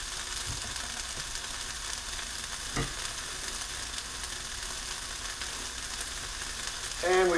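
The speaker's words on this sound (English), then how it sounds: "we are going to cook our Italian sausage for our pizza" Italian sausage fries in a pan as a pizza topping, with a steady close sizzle and crackle throughout, a brief stir or tap partway and a short rise in sound at the very end.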